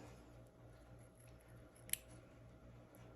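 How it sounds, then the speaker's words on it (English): Scissors give one crisp snip while trimming a piece for a St. Patrick's Day gnome made on a knitting machine. The cut is close but faint against a quiet background. "I'll cut it with my scissors"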